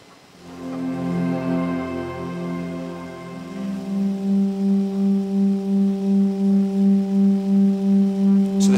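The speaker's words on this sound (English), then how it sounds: "the sound that they gave us that they recorded from the stars" A sound recorded from the stars is played back at a CymaScope sound science demonstration. A sustained harmonic drone slowly shifts pitch, then settles into loud, regular pulsing beats over a steady tone.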